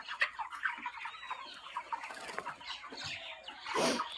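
Chickens on a poultry farm cluck and chatter in scattered, overlapping calls, fairly faint and busy with short bursts throughout, no speech.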